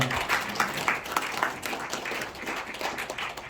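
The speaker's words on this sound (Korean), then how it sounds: "세 분 올라가실 때 박수 한번 크게 부탁드리겠습니다." An audience at a forum claps as three guests walk up to the stage, steady scattered applause of many hands sustained for a few seconds at moderate distance, no voices over it.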